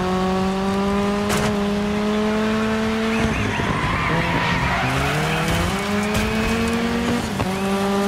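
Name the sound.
car braking and tires skidding in video game Dirt 5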